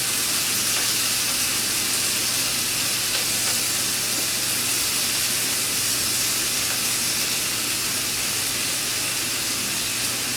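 Meat sizzles steadily in a pan on a Primus Firehole 100 camp stove, a constant loud broadband hiss and crackle with a low burner roar underneath, no voices.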